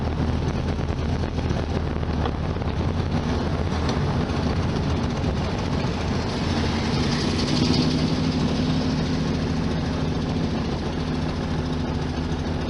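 A 1973 VW Super Beetle air-cooled engine with a Dellorto FRD 34 carburetor idles steadily, a close, even rumble that holds without a break.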